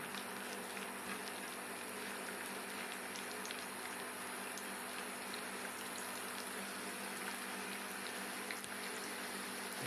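Chopped onions and green chillies fry in hot oil, a dense, even hiss and crackle running steadily throughout with no voices.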